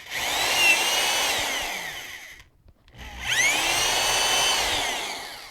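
A drill bores a hole in a scale model, whining loudly in two runs of about two and a half seconds each, split by a short pause of silence.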